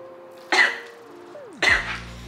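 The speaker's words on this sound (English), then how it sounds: "I always cough because I have something cold." Two sharp coughs, about a second apart, close to the mic, with a quiet hum and low tones in the background.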